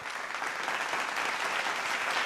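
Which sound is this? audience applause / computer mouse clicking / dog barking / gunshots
audience applause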